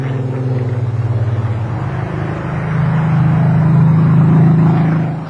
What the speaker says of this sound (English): you listen to the sound of that engine. It sounds really great.